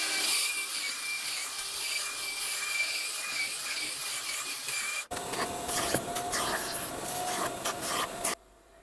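Cordless drill spinning a soft-bristle brush across a surface during a cleaning job, a steady scrubbing whir that shifts to a rougher, choppier brushing sound midway and stops abruptly near the end.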